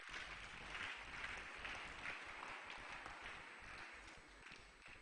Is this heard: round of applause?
yes